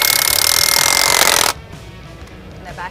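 A Bosch 18V cordless mid-torque impact wrench drives a 5/8 threaded screw with loud, rapid, buzzing hammering for about a second and a half, then stops abruptly, leaving quiet room tone and a faint clatter.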